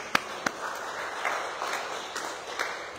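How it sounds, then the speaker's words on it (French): Church congregation breaking into applause after a sermon, a brief burst of scattered claps that swells into soft, diffuse clapping from across a room, moderately distant. "Acclamons très fort le Seigneur."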